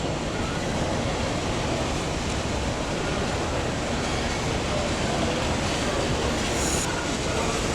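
A Norfolk Southern freight train rumbles steadily past close by near Harrisburg, Pennsylvania, a continuous loud roar of wheels on rails that holds constant throughout with no pauses.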